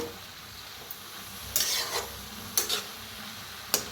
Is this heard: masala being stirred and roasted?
yes